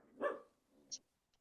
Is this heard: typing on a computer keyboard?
no